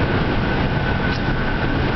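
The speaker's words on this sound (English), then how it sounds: "I'm trying to keep the RPMs up to keep that fan spinning. So I've got it in third gear, doing 53 miles an hour" A homebuilt electric car motor runs hard in third gear at 4,000 RPM and 53 mph, giving a dense, steady whine and road roar throughout, loud and close, with no speech.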